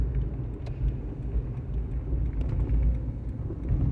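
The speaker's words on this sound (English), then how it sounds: "Go across this railroad track here." A car rolls across a railroad track, heard as a steady low interior rumble with some faint uneven bumps and no talking.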